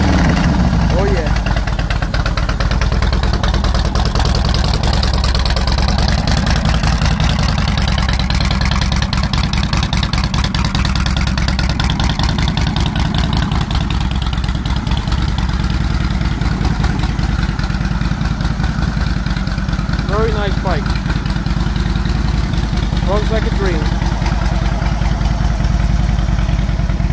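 The engine of a 2007 Harley Davidson FLHTCUI motorcycle idles with a deep, loping rumble close by. It is revved briefly a couple of times while people talk over it.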